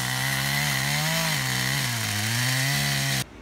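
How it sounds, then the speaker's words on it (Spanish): A chainsaw cuts wood on a hillside trail-building job, its engine droning loud and close with shifting pitch as it bites, then stopping abruptly. "la parte que más corta de la motosierra está acá"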